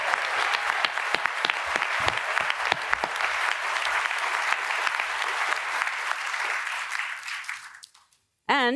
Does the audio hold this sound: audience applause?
yes